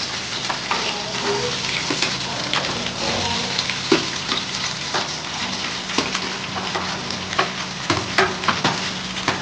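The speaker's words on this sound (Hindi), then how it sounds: "मैं आलू को भून लूंगी थोड़ा" Potatoes fry in a pan with a close, steady sizzle broken by scattered crackles and light stirring scrapes.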